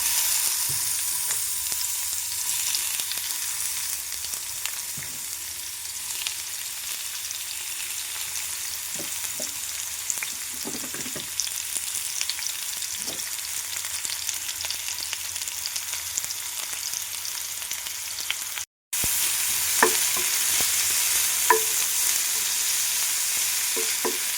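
Onion sautéing in hot oil in a pan gives a steady, close sizzle that runs nearly unbroken, with occasional soft scrapes of stirring and a single brief dropout, and no talking.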